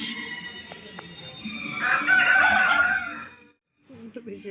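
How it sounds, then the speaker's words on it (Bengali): A rooster crowing loudly nearby, with scattered clucks from other chickens before and after the crow, in an outdoor setting with ducks on water. "এদিকে মুরগি ডেকেই যাচ্ছে কক কক করে"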